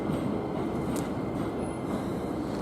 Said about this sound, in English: Commuter trains heading off into Tokyo.